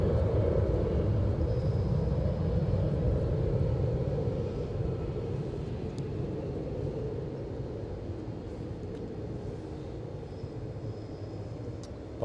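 A low, broad rumble of an airplane at Edinburgh Airport holds steady and slowly fades a little, heard at a distance with no voices.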